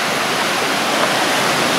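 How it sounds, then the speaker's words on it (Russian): Strong, rough sea waves breaking on Kamala beach in Phuket, heard as a steady, loud, broadband wash of surf with no distinct breaks and no voices. "и так как сильные волны, здесь море такое"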